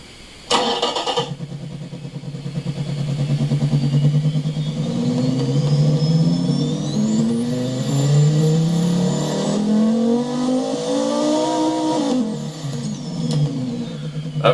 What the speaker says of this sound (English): I know Cookie Monster likes quiet engines, and so we're going to give it a listen here